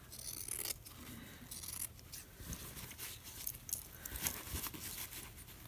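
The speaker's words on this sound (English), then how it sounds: "I need a new pair of fabric scissors." Fabric scissors trim cloth for a crazy quilt pincushion, giving faint, close snips and soft scraping in an irregular rhythm, with no talking.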